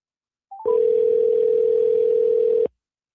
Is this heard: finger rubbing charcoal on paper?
no